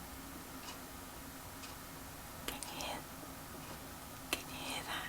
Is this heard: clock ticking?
yes